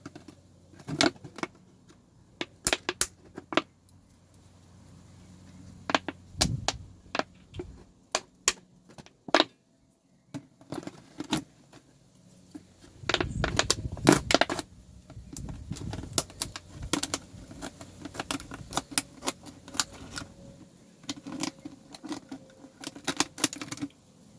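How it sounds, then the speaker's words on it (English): A plastic container base being cut open with a blade: scattered sharp clicks and scraping taps, close and fairly quiet, with a denser burst of cutting noise partway through and no talking. "So I'm just going to cut a hole where we marked."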